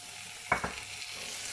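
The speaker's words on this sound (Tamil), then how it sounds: "இப்போ நல்லா வெங்காயம் நல்லா வதங்கிடுச்சு" Onions sauté in a pan for a drumstick kootu, a soft steady sizzle broken by two quick scraping stirs of a spoon, close and quiet.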